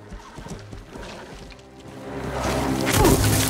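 A horse whinnies and its hooves thud in the Western TV series Godless, the neighing and commotion growing louder and closer toward the end, with a brief human voice mixed in.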